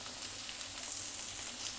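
Onion frying in a pan for a homemade chicken steak, a steady close hiss and crackle of sizzling that holds evenly throughout, with no talk.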